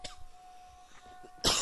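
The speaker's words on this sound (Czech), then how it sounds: "vidíte, že jsem se kašlu nezbavil" A single sharp cough bursts out near the end while someone plays the shooter game Alliance of Valiant Arms, after a quiet stretch with a faint steady hum.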